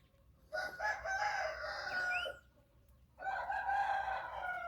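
A fighting rooster crows twice, loud and close, each crow a long drawn call with a short quiet gap between them; no one speaks.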